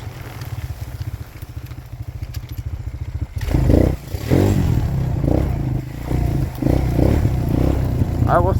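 A Suzuki LTZ 250 ATV rides along wooded hunting trails at night, its engine idling with a steady rattle, then revving up loud and rough amid clatter and scraping, with a voice heard faintly.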